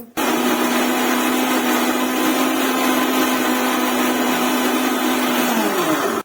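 A kitchen mixer grinder whirs steadily while grinding masala for chicken curry, a loud, even motor whine lasting about six seconds before it switches off and winds down.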